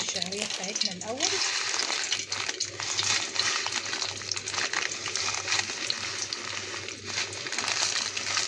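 Vermicelli hits hot oil strained from fried onions in a pot, giving a steady loud sizzle and crackle with faint stirring and clinks throughout.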